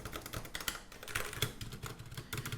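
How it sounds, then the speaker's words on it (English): Typing on a Xiaomi Yuemi MK01 mechanical keyboard: a quick, uneven run of crisp keystrokes clattering close and fairly quiet, with no voices. "how this keyboard actually achieved this amazing feel and experience when typing"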